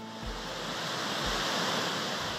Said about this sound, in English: it's covered with streams and rivers and gullies, all filled with rushing blue water